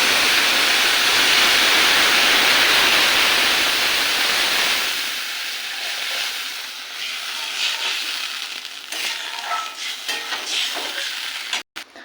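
Water poured into a hot pan of oil tempered with nigella seeds and slit green chillies, for an eggplant and hilsa fish curry, gives a loud, close burst of hissing sizzle that fades after a few seconds into softer, crackly steaming.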